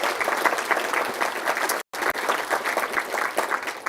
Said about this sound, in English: Y'all, a round of applause for our friends at Coke.